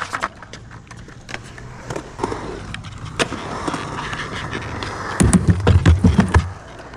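Skateboard rolling on a Polar 8.3 deck during a first session in Troy, North Carolina: steady wheel roll over pavement punctuated by sharp pops and clacks, ending in a loud burst of board impacts and rattling landings, no talking.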